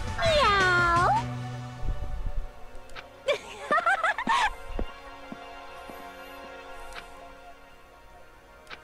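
A cat in the video game Dangan Ronpa 2 lets out a loud, drawn-out meow at the start. Sparser electronic game sounds follow over a quiet background.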